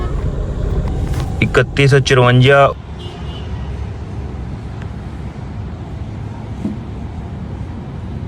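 A car drives through Khariyan city carrying passengers. Steady engine and road noise fills the cabin, with a brief burst of voice and tonal sound near the start before the drone carries on alone.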